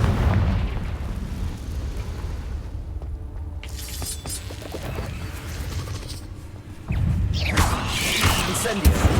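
A Confringo blasting spell explodes in the video game Hogwarts Legacy, heard as booming, crackling blasts with a quiet lull and then a louder burst and rumbling debris toward the end.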